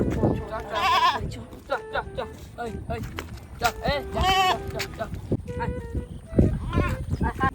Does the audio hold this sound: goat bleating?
yes